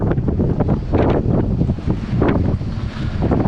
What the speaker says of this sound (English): And that was a very minor gust,